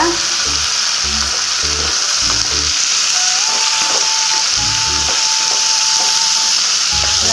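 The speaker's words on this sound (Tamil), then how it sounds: "இது வந்து நல்லா எண்ணெயிலே வதங்கணுங்க" Radish and tamarind for a chutney sauté in oil, a loud, constant frying hiss broken by repeated low knocks and scrapes of stirring.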